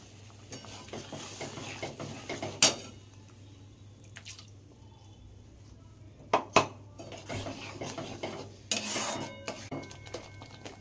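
Masala mixed with yogurt being sautéed and stirred in a pan for chicken malai kofta curry, with a spoon scraping and clinking against the pan in scattered sharp knocks over a low background hum.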